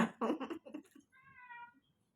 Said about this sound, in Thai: แมวร้องนะทุกคน